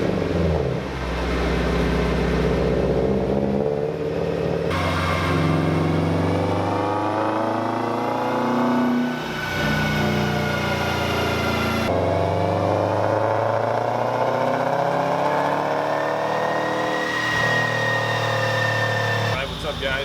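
A 2014 Subaru WRX on a 91 octane tune idles steadily at startup during a dyno day at a tuning shop, a continuous mid-pitched engine drone with small shifts in pitch, and people talk over it throughout.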